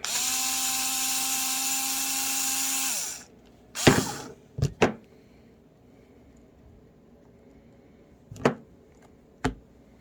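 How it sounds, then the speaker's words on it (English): A power driver with a 4mm socket whirs steadily for about three seconds while loosening the wheel nuts on a small scx24 RC crawler, followed by a few sharp clicks and taps as the tires are pulled off, close and fairly quiet. "you are going to take your 4mm socket. Mine's on a nifty little driver. And you're going to take the tires off."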